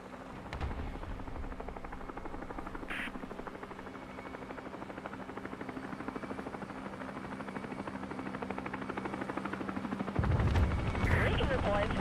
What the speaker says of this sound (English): Enemy helo.